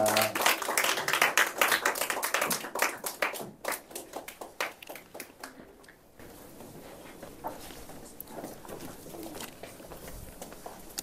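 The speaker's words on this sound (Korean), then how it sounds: "우리 큰 박수와 함성으로 네, 마지막으로 인사드립니다" Audience at a fall special seminar and prayer concert claps in a dense burst of applause that thins out and fades after a few seconds, leaving scattered claps and room noise.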